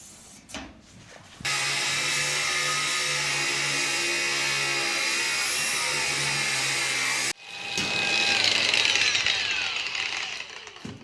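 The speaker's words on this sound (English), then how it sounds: "This is a totally working cordless angle grinder" A cordless angle grinder spins up and runs at a loud, steady high-pitched whine for several seconds, cuts off abruptly, then starts again with a harsher grinding roar.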